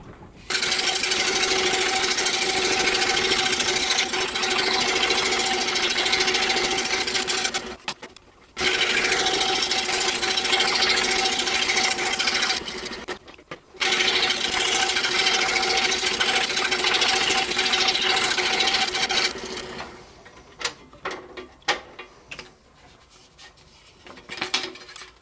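A scroll saw cuts wooden letters in a busy rapid buzzing chatter. Three long cutting runs are broken by short pauses, and the last stretch drops to quiet scattered clicks and taps.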